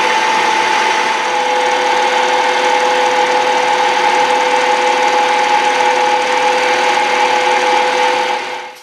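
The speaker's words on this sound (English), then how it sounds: "This is the biggest 2-flute end mill that I have" Milling machine running a large 2-flute end mill while machining a part for a machinist vise, giving a loud, steady whine with a constant tone that holds for about eight seconds and then cuts off.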